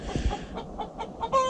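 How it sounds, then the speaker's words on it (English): Farm hens squawking after laying eggs, a series of short loud clucks and squawks in an uneven rhythm, close by, with no talking. "they'll make that squawking noise to let you know"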